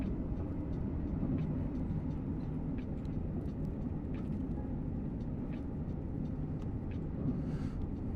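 A train runs on the West Coast Main Line Trent Valley route in the video game Train Sim World 6, giving a continuous, fairly quiet, deep rumbling drone with faint intermittent clicks throughout.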